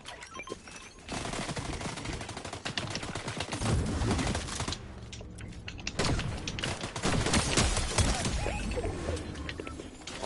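Rapid automatic gunfire from a mythic spy rifle in a survival video game, dense bursts of shots running almost continuously at steady loudness, with brief pauses between volleys.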